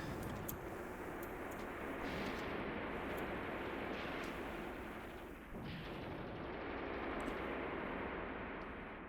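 Distant gunfire from Flak 36 guns and Tiger tanks in the Graviteam Tactics tank battle game, a faint, dense wash of shots and rumbling blasts under a steady noisy bed.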